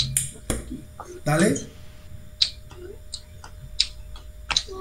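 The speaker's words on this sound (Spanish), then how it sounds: "le suena muy bien el chasquido" Sharp finger snaps sound one at a time in a loose, uneven pattern during a classroom rhythm exercise, with someone speaking briefly and other voices murmuring in between.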